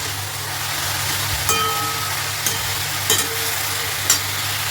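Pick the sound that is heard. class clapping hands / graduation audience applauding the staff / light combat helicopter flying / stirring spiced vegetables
stirring spiced vegetables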